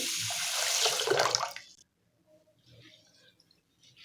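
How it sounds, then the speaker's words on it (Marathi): Running tap water rinsing rice in a bowl for veg biryani, a close splashing flow for about a second and a half, then quiet with faint dripping and handling. "इथे मी तांदूळ सुरुवातीला धुवून घेते"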